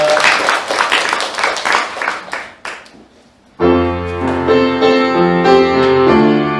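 Lively rhythmic applause from a church congregation during an Easter service, several seconds of clapping fading out before music with singing starts up loudly.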